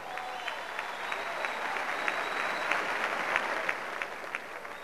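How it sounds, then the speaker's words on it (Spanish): Sustained crowd applause at a music awards show, a dense, fairly distant wash of clapping with a few sharper claps standing out, steady throughout. "El aplauso para El Despecho en Televisión"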